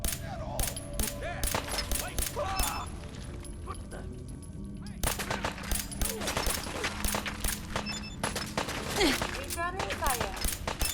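Rapid bursts of gunfire trade back and forth in a Fallout 4 firefight, sharp repeated shots and machine-gun volleys loud and close, with a voice speaking at times over the fighting.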